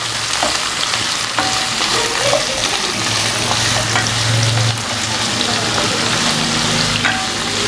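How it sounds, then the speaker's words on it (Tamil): Vegetables sauté in a pan for soup, producing a loud, continuous, close sizzle with faint scraping and a low background hum throughout. "இது ரெண்டும் வந்து வதக்கிடலாம் கொஞ்சம் ரெண்டுத்தையும்."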